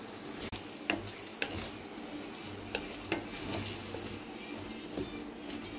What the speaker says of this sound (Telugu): బెల్లం అదే పంచదార కూడా కరిగి చక్కగా దగ్గరికి వచ్చే వరకు మనం దీన్ని ఇలా తిప్పుకుంటూ ఉండాలి.